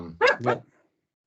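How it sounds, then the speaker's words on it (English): A dog gives two quick, close barks in a row, followed by near silence. "Took me a second to realize that was a dog."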